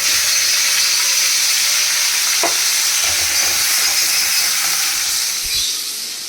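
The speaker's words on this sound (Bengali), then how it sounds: "আলুগুলো আগে ভাজবো।" Potatoes fry in a pan with a loud, steady, close sizzle that runs the whole time, broken only by a faint clink or two of stirring and no voices.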